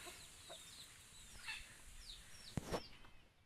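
Chickens on a Thai farm clucking at close range, a few short irregular calls with one sharper squawk near the end, over a faint outdoor background.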